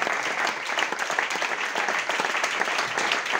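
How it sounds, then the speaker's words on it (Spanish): A church congregation bursts into loud, dense applause during a Spanish-language worship service, the clapping steady and sustained throughout. "Dale un fuerte aplauso al Señor"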